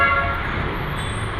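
Busy street traffic in Binondo, Manila, rumbles loudly with a car horn tooting near the start, a dense wash of engines around a pedestrian walking outside.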